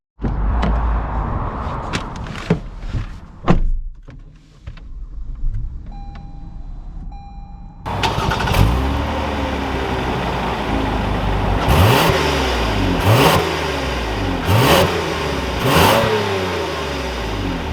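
A 2021 Lexus ES 350 F Sport V6 sedan starts up after a few interior clicks and chimes. It then idles and pulls away, with its engine revving and building through repeated gear shifts, close and steady.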